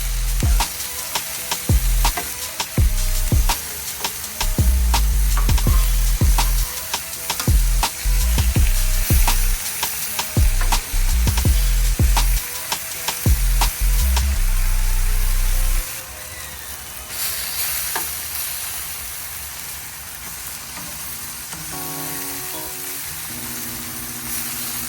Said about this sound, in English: So I let the steaks sit about 3 minutes on one side, and now I'm flipping them.